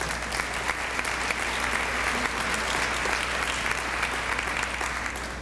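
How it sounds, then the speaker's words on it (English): A crowd applauding steadily, a dense wash of clapping hands from start to finish. "You can clap."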